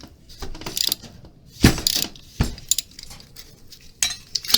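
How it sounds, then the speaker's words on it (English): A ratchet backs off an inline brake flaring tool in short bursts of rapid metallic clicking, close and fairly loud, with quiet pauses between the turns. "I'm going to back it off a little bit again with the ratchet."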